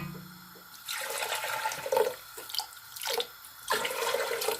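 Water is poured into a cooking pot of Filipino pork hamonado, with several splashing, gurgling bursts that start and stop in uneven pulses, close and fairly loud, with no talking.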